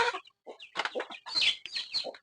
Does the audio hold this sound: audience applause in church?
no